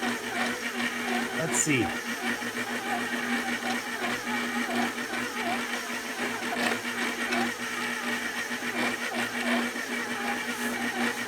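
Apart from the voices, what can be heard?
old kitchen stand mixer running while mixing tsoureki dough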